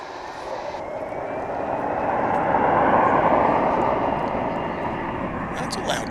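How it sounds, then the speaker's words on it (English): Loud jet airplane roaring past at DFW International Airport, a broad rumbling engine noise that swells to a peak midway and slowly eases, heard continuously for several seconds outdoors. "That's a loud plane."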